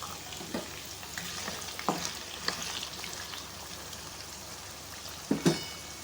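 Potatoes frying in oil in a pan, heard as a soft, steady crackling sizzle with a few faint knocks and a louder clatter near the end.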